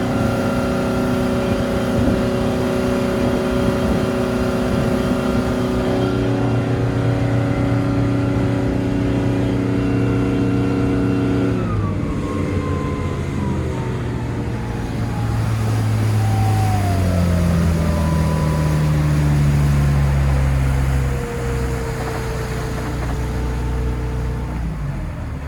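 A 2010 Glastron GT 209 cuddy boat runs at about 40 mph, its outboard engine a loud, steady drone with strong harmonic whine, pitch shifting and rising as the throttle changes, close and continuous with no voices.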